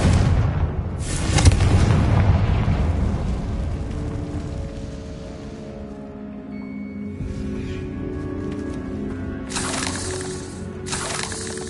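A spell explosion in the Hogwarts Legacy video game lands as a loud, booming blast that rumbles and fades into a crackling, ringing tail, followed by sharp bright bursts near the end.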